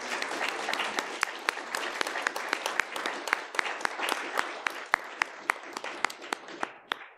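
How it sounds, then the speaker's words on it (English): Church congregation applauding veterans: a round of clapping from a modest crowd with sharp individual claps standing out, gradually thinning and tapering off toward the end. "let's give them a round of applause"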